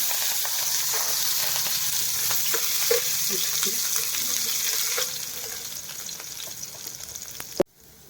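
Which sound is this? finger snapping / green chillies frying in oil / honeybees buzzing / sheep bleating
green chillies frying in oil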